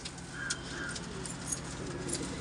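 Pigeons for sale, white-eyed birds with purple shading, cooing softly in a couple of brief low calls, close by over a constant background hiss and faint jangling.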